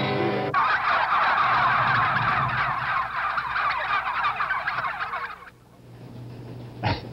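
A flock of turkeys gobbles loudly and continuously at the Cuero Turkey Trot, a 1972 town event in Cuero, Texas, with dense overlapping calls near and constant for about five seconds before fading into quieter background noise.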